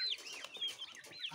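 Chicks clucking and peeping in a yard, high thin calls repeating in quick overlapping bursts at close range with no talk.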